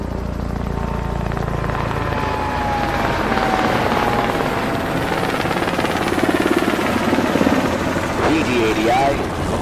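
Helicopter approaching a helipad to land, a steady loud rotor thump and engine whine held throughout, with radio-style voices talking over it.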